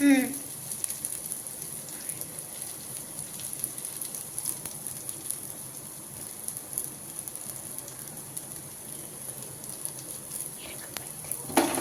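Onions sautéing in a pan on a low flame for Coimbatore-style wedding sambar, a soft continuous sizzle and hiss with faint stirring scrapes, quiet and steady, with a brief clank at the start and the end.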